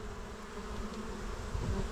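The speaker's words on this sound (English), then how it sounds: "maybe some of these bees are going out for some orientation flights." Honeybees drone softly around a homestead hive in spring, a faint steady buzz with no voices.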